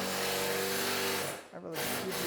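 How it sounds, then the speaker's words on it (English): A power drill drives screws into a Harmar Helix stairlift rail on a staircase, a loud continuous whirring grind that dips briefly as the motor pauses, then picks up again. Someone talks over it. "So we're going to start putting those screws in right now."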